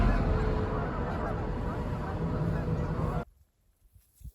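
Canada geese honk loudly in a dense, continuous flock clamour for about three seconds, then the calls cut off abruptly, leaving near silence with a few faint sounds.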